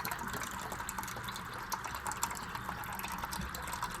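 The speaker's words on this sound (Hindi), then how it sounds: "चलो थोड़ा सा पानी और डाल दें।" Water pours steadily into a bowl of soaking poppy seeds for a chutney recipe, a close, continuous gushing and splashing at moderate volume with no speech.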